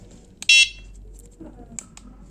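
A bicycle headlight with a built-in horn, set to strobe mode, gives a single short high electronic beep at close range, with faint low background noise around it.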